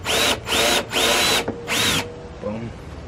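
A power drill boring into a Mazda Miata NA door to mount speaker rings: four sharp, whining bursts, each rising in pitch as the bit bites, close and loud, followed by quieter handling noise.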